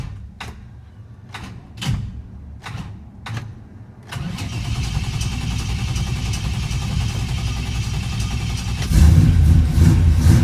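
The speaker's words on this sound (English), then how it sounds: "when I release the starter, it fires up" A 1955 Chevrolet Bel Air engine cranks with several loud rhythmic starter bursts, then fires up into a steady running roar that rises into a louder rev near the end.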